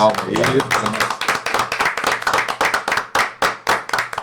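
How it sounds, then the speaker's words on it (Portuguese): A round of applause at the close of a podcast interview, a small group clapping steadily for about four seconds, close and fairly loud, with a voice speaking briefly at the start. "Uma salva de palmas."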